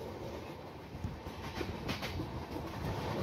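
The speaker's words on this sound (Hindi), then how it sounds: "दोस्तों ट्रेन का भी सफ़र एक अलग ही मज़ा होता है।" Passenger train on a morning journey near Pathankot, heading toward Katra, rolling along the rails with a steady, close rumble and faint rhythmic clickety-clack throughout; no one speaks.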